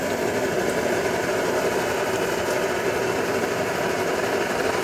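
An Optimus Polaris stove, preheated and turned up, burns petroleum-based grill lighter fluid with a steady, unbroken roar close by.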